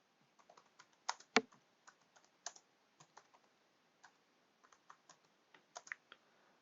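Someone types a command on a computer keyboard: a quiet, uneven run of close key clicks with a few sharper taps and short pauses between them.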